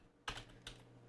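Computer keyboard typing: two quiet, close key strikes about 0.4 seconds apart in a quiet room, with no talk.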